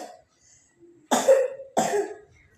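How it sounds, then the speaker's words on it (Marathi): A girl coughs twice at close range, two harsh bursts about half a second apart after a brief quiet stretch. "आजपासून तिला खोकली पण जास्त झालेली"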